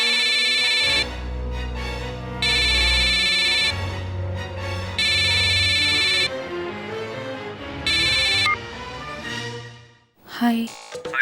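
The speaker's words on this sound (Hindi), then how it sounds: "जय का फोन" A phone ringtone plays in repeated electronic bursts with short gaps between them, loud and close, ending in a brief clattering noise.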